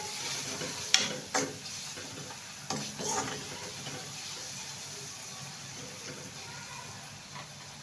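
Masala sautés in a pan for a spicy dried-shrimp (sukat) curry, with a soft, continuous sizzle broken by a few sharp spoon scrapes and clinks near the start.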